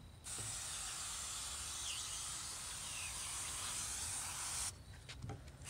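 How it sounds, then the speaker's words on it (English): A garden hose sprays water to rinse a doorjamb, giving a steady, close hiss that runs for several seconds before cutting off, followed by a few faint clicks and knocks. "now we're gonna take our hose"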